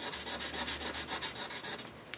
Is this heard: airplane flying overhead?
no